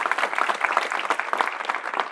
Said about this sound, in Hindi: इस किताब के लिए एक बार जोर से ताली बजा दो